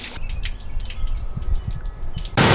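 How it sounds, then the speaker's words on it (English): Coolant water trickles and drips from the radiator petcock of a Ford F-150, close-up and fairly quiet, with a steady faint patter. "the water only comes out of the pepcock like a little trickle"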